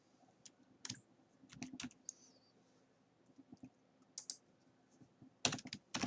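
Sparse, irregular clicks of fingers typing on a computer keyboard, entering a value into a search box. The keystrokes come in short bursts with gaps between them, close and fairly quiet, with a denser flurry near the end.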